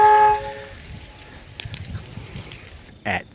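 A short, loud Horn Tech car air horn blast heard from 200 feet away sounds at the start and cuts off, leaving outdoor background noise and a sharp knock near the end.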